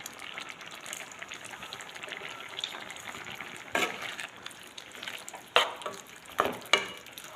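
Tender jackfruit kurma simmering in a pan, a soft continuous bubbling with a few louder spoon scrapes and clinks toward the end, close but quiet.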